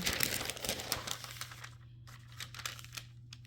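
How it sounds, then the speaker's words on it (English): Parchment paper being handled at a craft table while making a Cricut heat-press T-shirt, giving a close, loud crinkling and rustling that is busiest in the first half and then continues as lighter, scattered crackles over a steady low hum. "I'm just gonna take my parchment paper."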